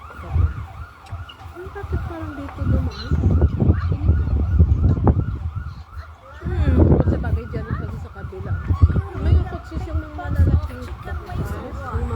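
A fire truck siren wails in rising and falling sweeps at a distance, with wind rumble and passing traffic noise close by.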